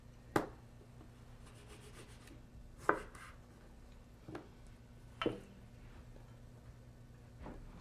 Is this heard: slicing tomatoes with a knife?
yes